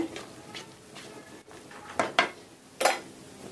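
Metal pan clattering onto a home kitchen stove, ready for frying mustard seeds: soft scrapes, then a few sharp clanks near the end, close and moderately loud.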